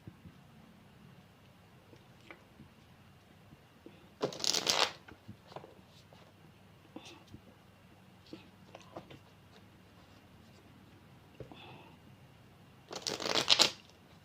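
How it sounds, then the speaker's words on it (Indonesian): Tarot cards shuffled by hand during a reading, two quick crisp riffling bursts several seconds apart with faint handling rustles between, close and otherwise quiet. "Saya memang lama ya teman-teman ngambil kartunya"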